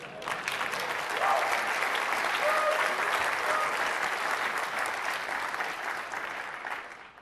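Audience applause at a tech presentation on Windows Server Hyper-V, a full, steady burst of clapping that swells early, holds for several seconds and then tapers off, heard without any talk over it.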